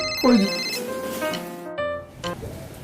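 A telephone rings with bright electronic ringtone tones that sound in short bursts over a mix of background sound, and people talk around it.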